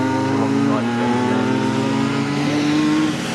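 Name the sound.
saloon race car coming into the pit lane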